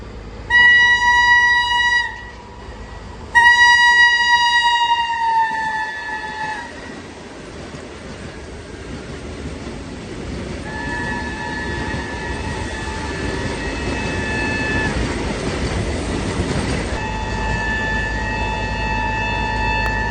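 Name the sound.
train arriving at railway station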